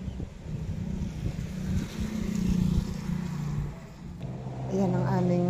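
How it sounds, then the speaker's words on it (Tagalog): Strong wind after a typhoon roars steadily across the microphone in gusty buffeting waves, loud and close, with a voice talking over the noise toward the end. "mabilis ang hangin sa taas"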